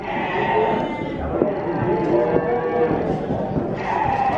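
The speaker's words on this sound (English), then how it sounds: "And there's cows." Cattle lowing at a farm, heard at moderate distance over a busy outdoor background, with a person talking intermittently throughout.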